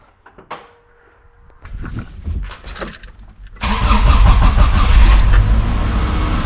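A jump-started Subaru engine cranks, catches and fires into a loud, steady run that fills the second half, after a few clicks and clunks near a car.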